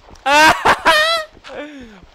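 A Minecraft chicken clucking, heard as a couple of short, rising-and-falling fowl calls close by, with a voice briefly overlapping.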